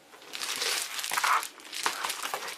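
An insulation sheet crinkles as it is handled, in a few bursts of crisp rustling over a couple of seconds, up close and fairly loud.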